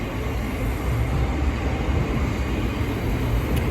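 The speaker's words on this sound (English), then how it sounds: "now departing is the 1448 Southeastern service from London Cannon Street to London Cannon Street" A Southeastern passenger train at London Bridge station gives off a loud, steady low rumble and rolling wheel noise throughout, with no break or pause.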